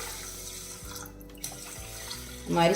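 Water running from a tap while rice flakes are washed in a kitchen sink, a steady splashing flow with a louder gush near the end, no talking.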